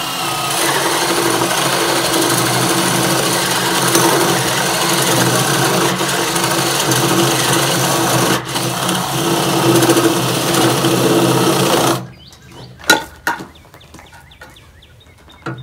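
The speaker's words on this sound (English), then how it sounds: "So we're going to drill the hole all the way through." A drill bores a hole through wood for a birdhouse, a steady loud whirring grind that runs continuously for about twelve seconds and then stops, leaving a few scattered knocks.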